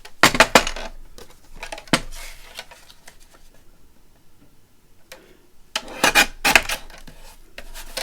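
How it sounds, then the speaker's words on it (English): Scissors or a craft knife trimming paper for a butterfly tag, heard as bursts of crisp snipping and rustling at the start and again near the end, with a quieter stretch in between and no talking. "So let's trim that out and then give it a try."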